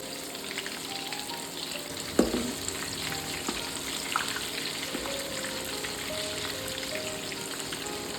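Bitter gourds (karela) fry in hot oil in a pan, with a steady, close crackling sizzle throughout and a few brief clinks and stirring taps.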